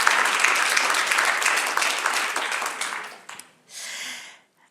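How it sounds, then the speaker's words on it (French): Crowd at an award ceremony for a women's entrepreneurship challenge claps warmly, the applause thinning and fading out, then a brief final burst before silence. "j'estime que ça mérite quand même un applaudissement"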